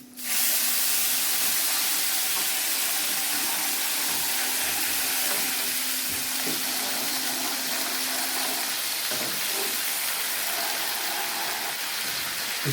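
Water poured into a hot pan for steaming dhokla bursts into a loud, steady sizzling hiss that holds evenly for several seconds, close up, with no talking over it.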